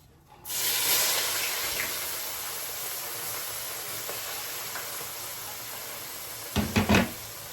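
Chopped onion tipped into a hot stew pot, giving a sustained broadband hiss and sizzle that starts abruptly and holds steady, with a few louder clattering knocks near the end.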